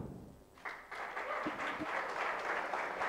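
Applause swells at a prize distribution for a project competition winner, starting quietly, then jumping into full steady clapping from a crowd close by, with a couple of low thumps mixed in.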